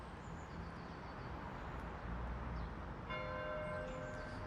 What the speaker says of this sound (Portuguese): O sino da igreja badala